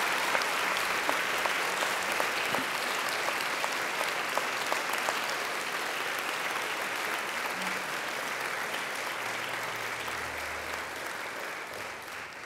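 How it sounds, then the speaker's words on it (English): Graduates at a graduation ceremony give a long round of applause to their families and friends; sustained, fairly distant crowd clapping holds steady for over twelve seconds, with occasional low rumbles beneath. "And now I invite you to give them a mighty round of applause."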